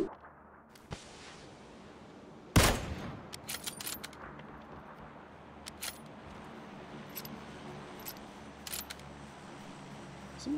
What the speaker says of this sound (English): Seemed like he was shooting a crate weapon, did it not?